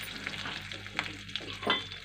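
Spice masala with hing and turmeric being stirred in a pan for bundi kadhi, a scraping, sizzling stir with a few louder strokes near the end, heard up close with no talk.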